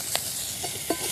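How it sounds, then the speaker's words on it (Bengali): Chopped onion and crushed garlic hit the hot oil left in a kadai after frying katla fish heads, giving a close, steady sizzle broken by a few brief stirring scrapes. "মাথা ভাজার পরে কড়াই যে তেল আছে তার মধ্যে দিয়ে দিচ্ছি পেঁয়াজ কুচি"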